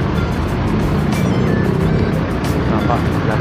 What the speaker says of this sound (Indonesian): Dan bus Harapan Jaya coba memarkirkan busnya.